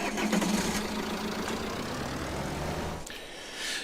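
A van engine idles and runs steadily in a farming simulator, a continuous mid-low hum that drops away near the end.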